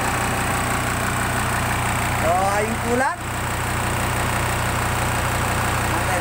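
A Volvo inboard engine on a fast rescue boat idles with a steady low drone throughout, while someone talks over it nearby.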